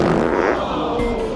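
A loud, sustained comic fart from a Mexican comedy film sounds for over a second, low and buzzing, with no other noise around it.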